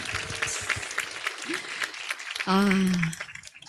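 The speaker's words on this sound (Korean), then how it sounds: "우리 다 함께 진짜 내가 받는 박수라 생각하고 한 번 더 박수를 크게 쳐드릴까요?" Audience applause at a leadership gathering, dense clapping mixed with a voice talking over it, then a loud sustained vocal burst near the end as the clapping carries on.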